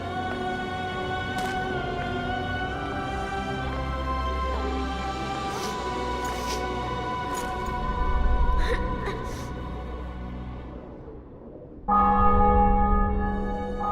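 Church bells peal continuously in The Witcher 2, with layered ringing tones and sharp strikes over a low, steady ambient rumble, briefly dipping before a fresh, louder round of chimes.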